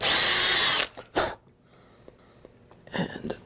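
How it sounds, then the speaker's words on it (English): A power drill bores into a door frame in one loud sustained burst that stops abruptly, followed by a brief rattle, quiet handling noises and a second short burst near the end. "just drill a little bit further in."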